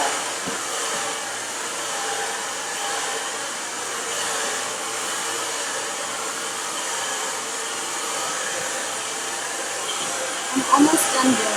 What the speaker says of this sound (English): I'm almost done blow drying.